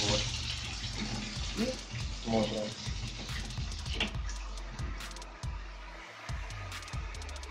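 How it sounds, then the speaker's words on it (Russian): Tap water runs through a standard aerator into a plastic bag being filled, a steady close rushing and splashing stream that lasts throughout with small fluctuations. "будем просто засекать 10 секунд и смотреть, сколько воды наберется в пакет"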